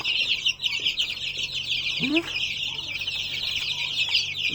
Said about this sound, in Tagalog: Yan, gutom na yung mga sisiw natin.